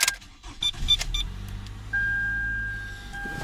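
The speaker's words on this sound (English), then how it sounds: "if I go ahead and crank this car on" A car engine turns over and settles into a steady idle during a charging-system check with a load tester, preceded by clicks and handling noises, then a continuous low running hum with a faint whine, fairly close.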